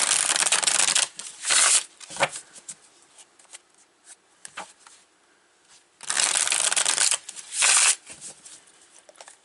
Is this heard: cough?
no